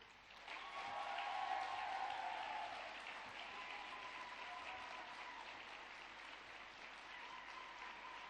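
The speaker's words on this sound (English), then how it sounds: "I'd like you to give a huge and rousing round of applause." Audience applause at a university graduation ceremony: dense, sustained clapping that swells over the first couple of seconds, then settles to a steady roar filling the hall without pause.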